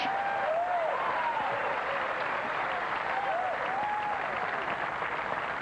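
A tennis crowd at a final claps after a long rally, a continuous even patter of applause with a few whistles rising and falling above it.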